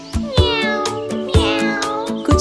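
Cat meowing in a quick series of loud, close, tonal cries in a children's song with instrumental backing; the cries may be synthesized or imitated rather than a real cat.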